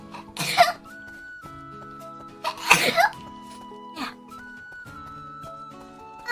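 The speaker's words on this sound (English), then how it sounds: "Sneeze." A VTuber lets out two sharp, close sneezes a couple of seconds apart, each a sudden burst of breath, over quiet game music with a soft trailing sound afterward.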